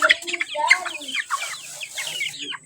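Several chickens cluck and squawk close by in quick, irregular bursts, with brief quiet gaps between calls.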